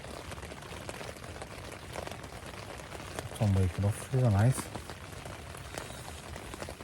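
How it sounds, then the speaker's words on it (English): Rain patters steadily on a tent during a solo wild camp at Blea Water Tarn in the Lake District, a soft continuous crackle with a voice speaking briefly over it midway. "Well, the rain didn't stop. Oh, it's still going now."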